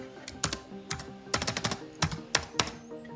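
Typing on a computer keyboard, close by, in irregular quick bursts of crisp keystrokes separated by short pauses, with no voices.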